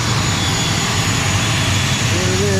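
Loud, steady roar of a small passenger airplane's engines running near the aircraft on an airport apron in Borneo, a broad continuous drone with a rising whine toward the end.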